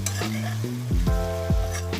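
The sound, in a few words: boiled chicken frying with vegetables for fried rice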